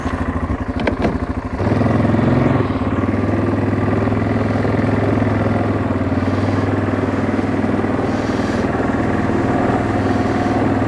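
A 2002 Yamaha Kodiak 400 ATV engine runs while plowing snow, a steady loud chugging drone that swells after a short rattly start and holds on without speech.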